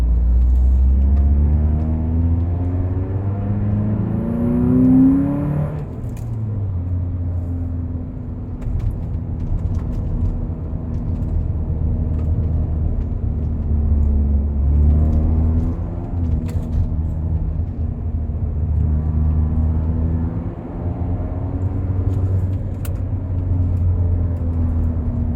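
A 1997 Honda Prelude drives along with a loud, steady engine drone and road rumble; the revs climb briefly early on, then settle into an even cruise.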